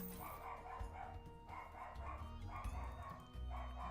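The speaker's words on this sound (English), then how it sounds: "Dog's going crazy though." A dog barks repeatedly at the doorbell, the barks coming in short bursts, faint and muffled from another room beneath steady background sound.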